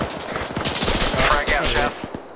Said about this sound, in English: just giving some suppressive on some of the windows